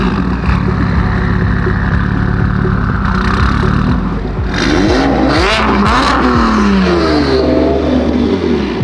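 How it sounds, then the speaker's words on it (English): A turbocharged BMW M4 with a custom straight-piped exhaust revs hard and continuously, loud and close. The engine rises and falls through several sweeping pitch changes, with raspy exhaust roar throughout. "Listen to that turbo."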